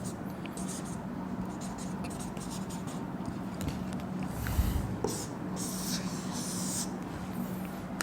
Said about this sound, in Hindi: इसी को लिख देते हैं।